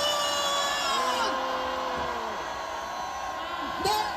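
A large rally crowd at an anti-impeachment protest outside an investigation office shouts and cheers with raised pickets, producing a dense, sustained roar with rising whoops and wavering voices.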